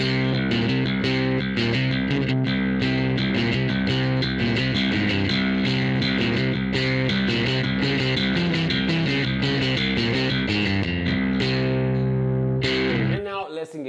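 Bass guitar run through a simulated Plexi amp set at the edge of breakup, a dense, gritty, continuously played riff with slight distortion, loud and steady before stopping abruptly near the end.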